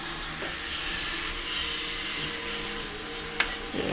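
Roomba robot vacuum cleaner running indoors, a steady whirring hum and airy hiss that stays even throughout, close by, with a brief knock near the end.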